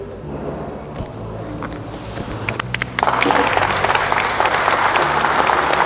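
Standing ovation at a general assembly: dense applause from a large crowd fills the room, swelling sharply louder about halfway through as more hands join, steady and continuous to the end.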